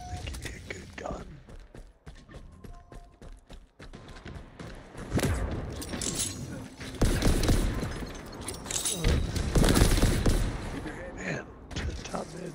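Gunfire rings out during a Halo multiplayer match, with bursts of rapid shots and sharp impacts that grow louder and denser midway, mixed with footsteps and mechanical clanks while players talk over it.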